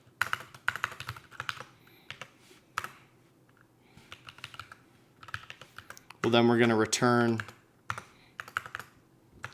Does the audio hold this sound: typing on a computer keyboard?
yes